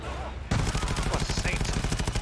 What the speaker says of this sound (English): Scattergun him! Show him shotgun supremacy!